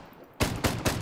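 Three loud, sharp gunshots from an RM16 rifle in a survival video game, fired in quick succession after a brief quiet moment, each burst ringing out close and alone.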